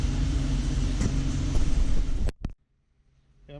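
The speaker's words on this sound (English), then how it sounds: "I'll start the crane up" A hydraulic crane's engine runs inside a shop, its loud, low rumble filling the space before cutting off abruptly to near silence, with a faint click at the end.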